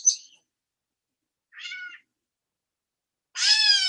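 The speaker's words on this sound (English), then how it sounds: "There's the cat sound that it makes." A gray catbird gives a few mewing, cat-like calls, separated by silence, with the last one louder and longer.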